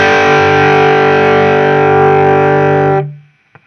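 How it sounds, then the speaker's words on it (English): Electric guitar through a Fender Duel Pugilist distortion pedal set to a light crunch, one sustained chord ringing loud and steady for about three seconds before being cut off, followed by a small tap. "So I'll make distortion A my crunch."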